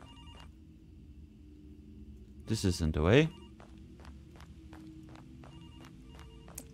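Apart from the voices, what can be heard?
telephone ringing in the video game Graveyard Shift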